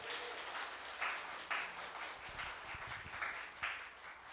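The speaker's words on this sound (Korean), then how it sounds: "1학년 친구들을 위해서 이제 격려와 응원의 박수 다 같이 한번 합시다" A church congregation claps together to welcome and encourage the first-year students, a steady patter of many hands filling the room at moderate volume, with a few sharper bursts rising above it.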